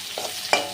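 Garlic paste and chopped onion go into hot oil in a pan, giving a short stir and a brief sizzling burst near the end, close and fairly quiet.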